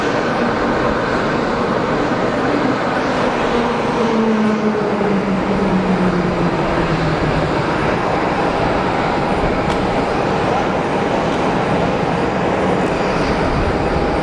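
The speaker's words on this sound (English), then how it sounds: "Another PC-12, again super popular, these things." A Pilatus PC-12 single-engine turboprop at Geneva Airport gives a steady, loud, continuous engine roar with a slowly shifting drone tone, heard alone for the whole stretch.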